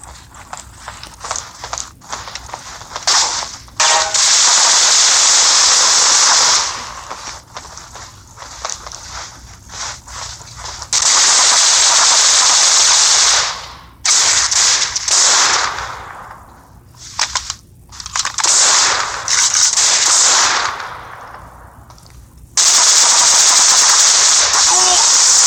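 Bursts of gunfire in the mobile shooter game C-ops, coming in several loud sustained volleys separated by quieter gaps with softer game sounds.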